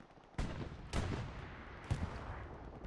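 Rifles fire in Hell Let Loose during a 49 v 49 battle on Elsenborn Ridge: three loud, separate shots, each with a booming, reverberant tail that fades over the steady battlefield ambience.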